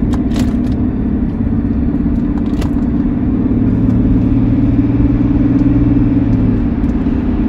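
A BMW 530d E39 with its diesel engine running gives a steady, close, loud low drone that holds evenly throughout, with no talking over it.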